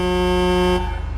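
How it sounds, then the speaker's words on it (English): The Slamtruck tow truck in GTA 5 sounds its horn in one loud, sustained, rich chord-like blast that cuts off sharply, leaving a short fading tail. "the horn, which is different than the basic truck horn"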